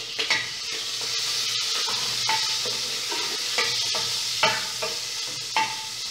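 Onion and garlic frying in a spoonful of oil alongside bacon and sausage for a lentil soup, a steady close sizzle with regular spoon scrapes and light clinks against the pot.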